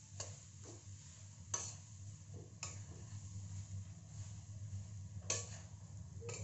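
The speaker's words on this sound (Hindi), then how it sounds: "अब इसको बहुत अच्छे से भूनेंगे हम दाल को।" Ground moong dal being roasted in a pan, faint dry stirring with a few light spoon taps against the pan over a low steady hum, no talk.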